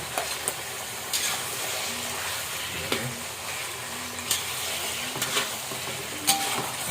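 Squid fries in a butter garlic sauce with tomato paste, sizzling steadily in the pan while a utensil scrapes and clacks in irregular strokes.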